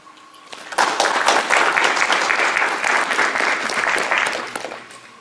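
Applause breaks out at a Paris tournament presentation event in 2017, starting after a quiet lead-in and holding as a dense, steady wash of clapping from a crowd for several seconds before easing off.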